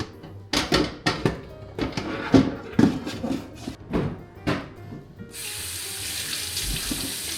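Chicken wings being washed under a running kitchen tap, with irregular splashes and knocks in the sink, then a steady hiss of water flowing alone at the end, close and fairly loud.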